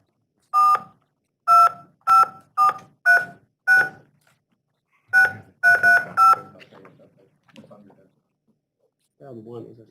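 A telephone keypad being dialed, giving about eleven short, sharp tones in two bursts with brief gaps between them, clear and close, followed by faint rustling and a low murmur of voices.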